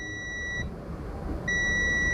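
A multimeter gives a steady high continuity beep while probing a faulty, dead mobile phone circuit board. The beep sounds twice with a short gap between, over a noisy hiss from the workbench.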